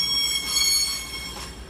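A short burst of high, thin metallic squeal from the wheels of Class 222 unit 222013 at Derby, riding over a low rumble of moving rail cars, with no voices.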